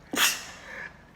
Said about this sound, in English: That came out of nowhere, that sneeze